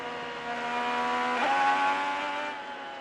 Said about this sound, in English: He went for a pretty aggressive downshift mid-corner, Georgia, and then spun up his Chevy coming off of turn 4